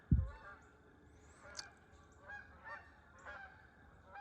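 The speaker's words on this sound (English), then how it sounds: "The geese that normally are in the cornfield where I'm at are repositioning from their morning feeding." Several geese honk in the distance near Tallahalla Creek as they leave a cornfield after morning feeding, scattered calls over a quiet background, after a brief low thump at the start.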